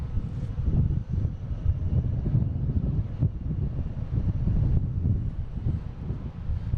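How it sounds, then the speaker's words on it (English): A United Airlines Airbus A319 jet takes off at Boston Logan airport, a steady, loud low-frequency engine roar with wind-buffeted rumble that holds throughout, with no one speaking. "United Airlines heading to Newark, taking off on 9, flight 2394"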